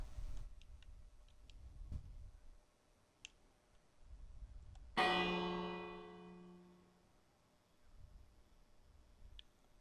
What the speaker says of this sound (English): Gong the bell.